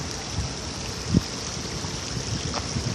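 River water flows in a Hsinchu city setting, a steady broadband rush with a faint trickling texture, moderately distant and continuous, with one brief thump.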